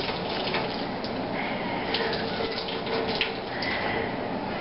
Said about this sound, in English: what we're doing now is we're squeezing the water out